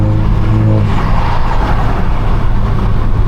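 Straight-piped 500hp BMW F32 428i accelerating hard, a loud, continuous engine roar with steady low harmonics droning throughout, close and unbroken with no talk over it.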